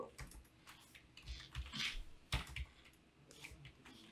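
Computer keyboard typing in a word processor: quick bursts of key clicks with short pauses, fairly soft and close, no talking.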